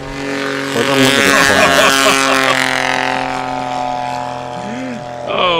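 A STOL aircraft's engine at the Swamp STOL competition in Jennings, Louisiana spools up loudly for takeoff, a strong harmonic drone that rises in pitch and holds close and steady, with a brief voice over it.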